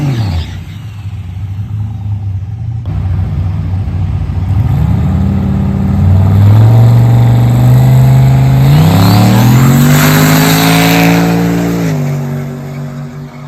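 Boosted old truck launching on a drag strip, its loud engine rising through gears with roaring climbs in pitch and a brief shift dip, heard alone.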